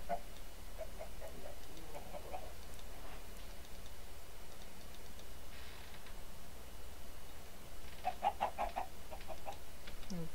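Minecraft chickens cluck in short, faint bursts over a quiet game background, with a small cluster of clucks near the end.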